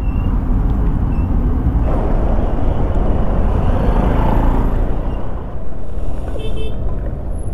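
Dense Pune road traffic around a Suzuki Burgman 125 scooter, a loud steady engine rumble with short horn toots and passing vehicles mixed in.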